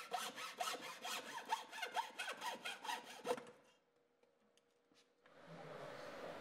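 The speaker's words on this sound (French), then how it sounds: "Puis, tu découpes avec une scie à fines dents la lame dans l'espace le plus court." Quick, regular back-and-forth strokes of a fine-toothed saw cutting through a wooden snap-fit parquet floorboard, about a dozen rasping passes, then quiet and a soft rustling hiss.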